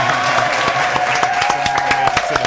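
An audience applauds guest Tim Hall on a show, a dense burst of clapping from a crowd with steady hand claps over a background tone, fairly loud and close, with brief talk mixed in.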